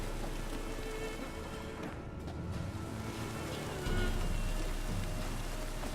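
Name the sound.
rain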